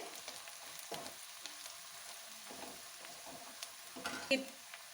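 Onions fry in a pan until light golden brown, a faint soft sizzle with occasional stirring scrapes and light clinks, quiet and close.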